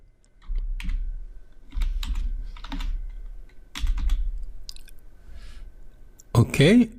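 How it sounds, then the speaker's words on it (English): Keystrokes on a computer keyboard as npm install is entered, a quick scatter of clicks in short bursts close to the microphone, with a sharper burst of clatter at the end. "You would type in npm space install"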